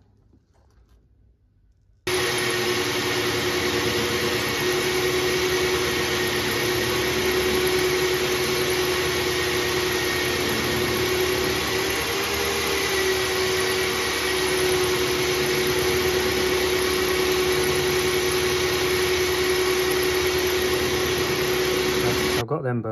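Magnetic-base drill line boring the steering pin bores on a JCB 416 loader, a steady loud machining whine and motor drone starting after a short quiet lead-in and holding unbroken to the end.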